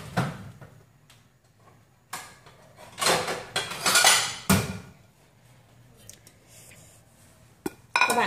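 Sticky rice with mung beans and coconut milk is scooped onto a plate, giving scattered clinks and scrapes of a utensil against dishware, with brief louder clatters between quiet pauses.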